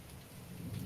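A thunderstorm sets a steady ambience of rain hissing on a surface, with a low rumble swelling toward the end. The sound is faint and distant throughout.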